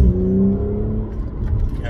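Car exhaust with the valves closed, a steady engine drone with low harmonic tones held for about two seconds, loud and close, speech tagged but no words heard.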